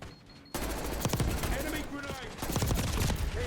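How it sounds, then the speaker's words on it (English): Gunfire in a gunfight in a Black Ops video game: rapid bursts of automatic weapon fire start abruptly and continue loud and close, with a second burst toward the end. "almost won that gunfight"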